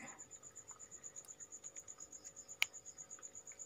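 Crickets in a farming enclosure lined with banana stems chirp steadily and rapidly in a continuous, fairly faint pulsing chorus, with one brief sharp click partway through.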